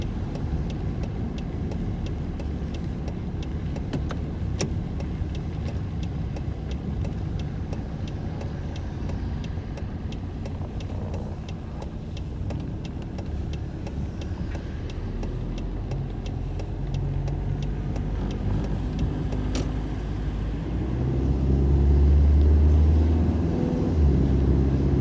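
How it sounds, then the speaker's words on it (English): A 1991 Toyota Corolla drives slowly around a parking lot, heard from inside as a steady low engine and road rumble that swells louder near the end, with no talk. "take the Toyota Corolla around the parking lot, see if the brakes are working fine"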